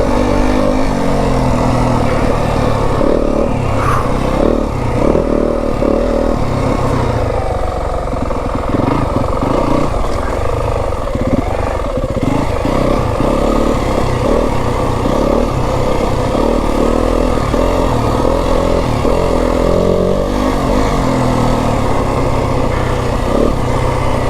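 Yamaha WR 250F four-stroke dirt bike ridden on rocky single-track trail at Kelly Canyon, its engine droning loud and close throughout with constant throttle changes, revving and engine braking over rough ground.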